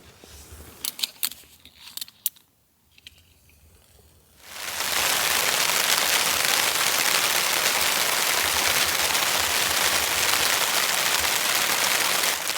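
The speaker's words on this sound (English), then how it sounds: "It started raining." A few light clicks and jangles, a brief lull, then a dense, loud hiss of winter rain drumming on a very small tent, steady to the end.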